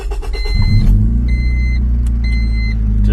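A project car's engine cranks briefly with power from a portable jump starter, then catches and settles into a steady, close, loud idle rumble, with no talking.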